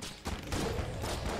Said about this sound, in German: Also schon eine Explosion halt.